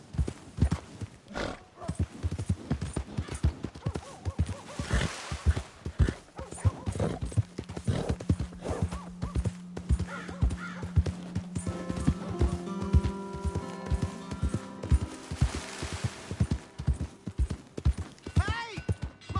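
Horse hooves clip-clopping in a PS4 video game, a brisk continuous rhythm of close hoofbeats with a neigh, game music and character voices talking over it.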